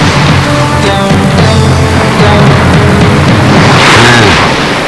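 A loud explosion effect from a Tamil comedy film fills the scene, a sustained rumbling boom with crackling debris that swells again near the end, dense and close.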